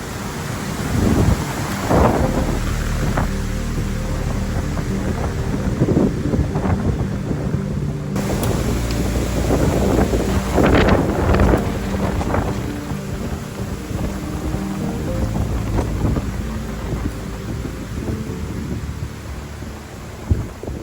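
Strong wind roars steadily against the microphone during a severe storm at a swag campsite, with a few sharp rattles and thumps as debris strikes a tarp overhead.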